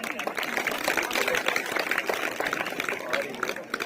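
A poetry-recital audience claps in dense, steady applause at moderate volume, with voices mixed in.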